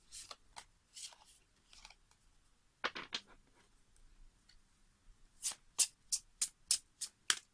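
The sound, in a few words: shuffling a deck of tarot cards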